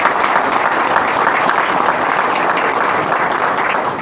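An audience at a federation gathering in India breaks into loud, sustained applause, a steady wash of many hands clapping close and continuous without pause.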